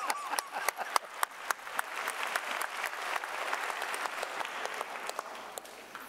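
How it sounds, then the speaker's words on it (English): A church congregation claps during a sermon on debt, a few loud close claps at first, swelling into brief scattered applause that thins out again. "Go ahead, clap on that."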